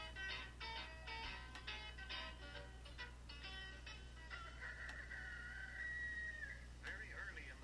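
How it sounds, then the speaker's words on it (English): Morning farmyard with a rooster crowing and chickens clucking, faint and somewhat distant over a steady low hum, with a drawn-out crow near the end. "Very early in the morning, the rooster sends out his call, and the chickens begin to wake."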